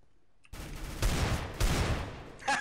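Desert Eagle pistol fire in the shooter game CS:GO: a burst of loud, close gunshots rings out after a brief quiet, followed by two more heavy reports about half a second apart and a sharp final shot, each trailing off in echo.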